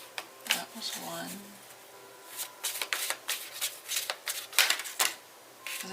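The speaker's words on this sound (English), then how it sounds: "we're going to do 3 shuffles" A deck of tarot cards is shuffled in quick, crisp riffles and flutters, close and clear, with a voice talking in places between the bursts.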